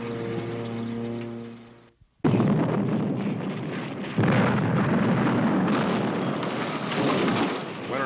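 Atomic bomb explosion: a loud, deep blast with a steady low roar, a sudden break near two seconds, then a second heavy rumbling burst that swells again and stays dense and booming to the end.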